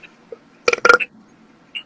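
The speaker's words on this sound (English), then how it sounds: "God, I keep burping." A person burps during a casual live interview, giving a short, close, throaty burst in two quick pulses amid otherwise quiet surroundings.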